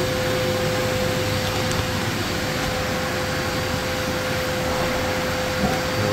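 Air pumps steadily into the chamber of an AlterG anti-gravity treadmill, a loud, constant blower roar with an even hiss and a fixed hum that continues unbroken throughout, with no one speaking.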